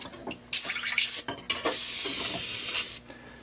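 Airbrush hissing out dark brown paint onto a fishing lure's sides, in two close, steady bursts with a short break between, the second long spray lasting over a second before cutting off.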